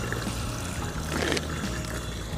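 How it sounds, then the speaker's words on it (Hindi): A push-button public drinking fountain in Barcelona runs with a steady stream of water splashing and trickling, close and continuous, with a slight swell partway through. "ये देखें, ये पानी है और ये इसको प्रेस किया और पानी शुरू हो गया"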